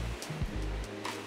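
Backyard fountain at a luxury New York City townhouse near Central Park, a steady soft wash of splashing water heard from a short distance, with low hums and murmurs mixed in and no clear speech.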